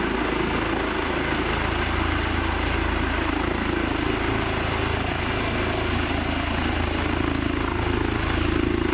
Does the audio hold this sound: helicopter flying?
yes